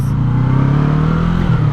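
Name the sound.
motorcycle engine revving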